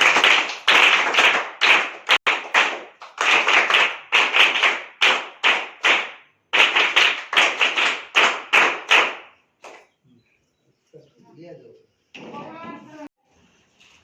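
A group claps in rhythmic bursts to welcome a birthday boy, loud and close, with short pauses between rounds; the clapping stops and faint voices follow.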